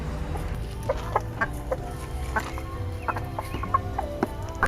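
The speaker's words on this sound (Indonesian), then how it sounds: "Saatnya kita kasihkan ke ayam." Several chickens cluck in a farm coop, with short repeated clucks and calls coming at an irregular rhythm over a low, steady background hum, close by and fairly clear.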